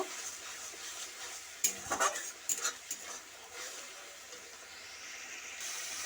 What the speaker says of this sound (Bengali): এটা ভালো করে আমি এটা কষিয়ে নেব